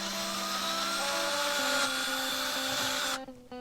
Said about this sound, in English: I was drilling the little holes for the anti-rotation pins